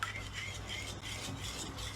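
Eggs and butter being mixed in a mixing bowl for a plum cake, a soft, steady scraping and stirring sound, quiet and close, with no talk.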